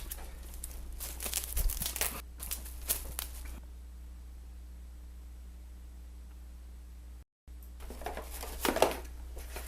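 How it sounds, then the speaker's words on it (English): Plastic wrap crinkles and rustles in crisp, uneven bursts while being handled for a watercolor painting, pausing into near silence midway before more crackling handling resumes close by. "I have lost the end to my plastic wrap, and that's bad news."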